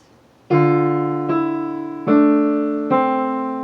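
Piano plays the opening of a song with both hands, four sustained chords struck at a slow even pace, each ringing and fading, close and solo with no voices.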